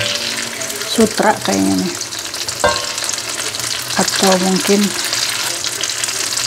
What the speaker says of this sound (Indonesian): Tapi selalu begini kalau goreng tahu ini ya.